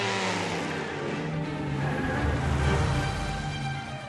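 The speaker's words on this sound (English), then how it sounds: "This fabulous car. It's a 1934 Frazer Nash." A 1934 Frazer Nash car engine revs loudly and continuously at a pre-race start line for about four seconds, building slightly in intensity toward the end.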